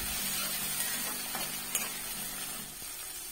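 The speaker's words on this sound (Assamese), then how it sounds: "বিলাহী দিয়াৰ পিছত লৰাই দিছোঁ এনেকৈ" Tomato and green chili fry in a pan while being stirred for an Assamese egg curry, a faint, steady sizzle broken by a few soft scrapes and clicks of the spoon.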